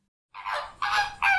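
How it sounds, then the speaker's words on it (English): A flamingo gives three loud, nasal, goose-like honks in quick succession, close and clear with no other sound. "flamingo"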